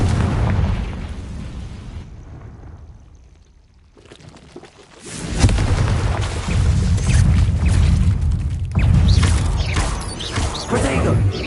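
A Confringo blasting spell goes off in Hogwarts Legacy, a sudden booming burst after a brief quiet lull, followed by sustained crackling, rumbling debris and further loud blasts that keep the scene noisy to the end.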